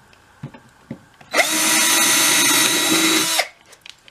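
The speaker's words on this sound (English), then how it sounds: "And those are drilled." Power drill boring into a wooden cigar box, one continuous loud whirring burst of about two seconds, with a few light knocks and clicks before and after.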